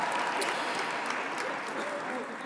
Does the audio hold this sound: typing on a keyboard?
no